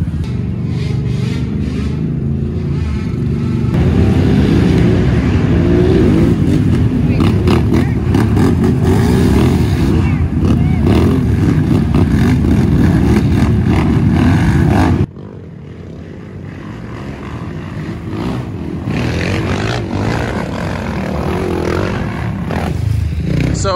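A dirt bike rides the 2021 Big Buck GNCC race track, its engine a loud, sustained drone that rises and falls with the throttle and drops off sharply partway before building again.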